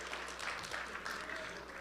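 Audience at a school sports banquet applauding and cheering, a soft, continuous patter of clapping heard from a distance.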